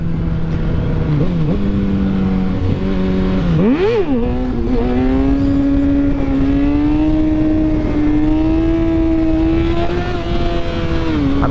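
A Kawasaki ZX6R sport motorcycle engine revs hard during a wheelie, its pitch dipping and then climbing into a loud, sustained high whine, heard up close with no voices.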